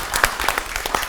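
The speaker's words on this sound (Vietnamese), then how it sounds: "hai bạn rất xứng đáng được mọi người cho một tràng pháo tay" A studio audience on a Vietnamese TV dating show claps in a brief burst, a handful of distinct sharp hand claps in quick succession heard close and moderately loud.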